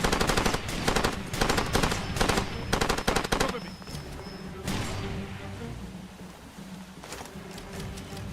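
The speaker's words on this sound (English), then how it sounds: "Who's shooting at you?" Automatic gunfire in the video game Far Cry 2, with loud rapid bursts of machine-gun fire through the first half, then scattered single shots and quieter background battle noise.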